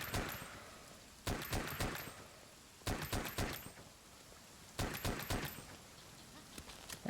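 Weapon shots in Monster Hunter World with heavy recoil, fired in three tight bursts of three to four sharp cracks, each burst separated by a pause of about a second, loud and close over low game ambience.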